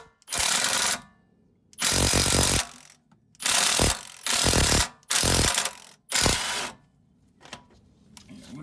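A half-inch impact wrench working on a shock bolt of a 1995 Ford Mustang GT, fired in six loud, close hammering bursts of roughly a second each, separated by short silences.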